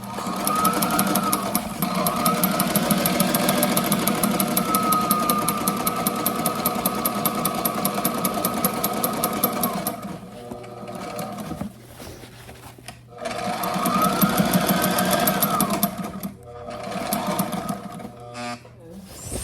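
Sewing machine stitching a small tab for a boat hatch cover on an Irwin 52 refit, running in a steady rapid chatter for about ten seconds, pausing, then starting again in shorter bursts, loud and close.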